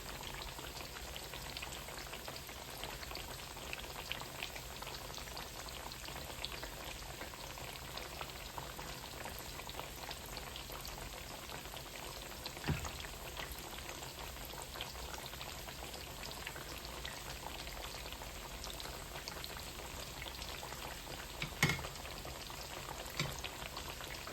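Squash slices frying in a pan of hot oil, a steady, dense crackle and bubble running evenly throughout with a couple of sharper pops, heard close with no talking.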